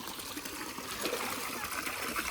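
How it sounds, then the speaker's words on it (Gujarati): Fresh water from a motor pump pours into a tank with a steady, close splashing gush that runs unbroken from start to finish. "તાજું તાજું પાણી આવે આ કુંડીમાં"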